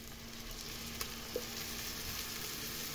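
Ground beef fries in a pan as blended tomato is poured in, a soft continuous sizzle with a couple of brief stirring clinks, fairly faint and free of talk.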